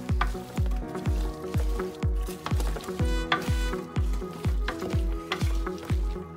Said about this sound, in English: Now we mix it all up.